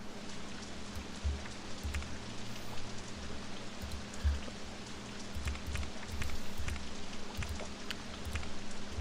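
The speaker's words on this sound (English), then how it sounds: "And here comes the rain again." Rain falls in the park-building game OpenRCT2, a steady soft patter with scattered drops tapping over a low rumbling bed, continuous and fairly quiet throughout.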